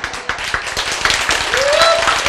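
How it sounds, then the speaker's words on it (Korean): An audience in a lecture hall claps together, a dense, steady burst of hand claps close by that lasts throughout, with a few voices mixed in. "우선 박수부터 치고 쓰세요."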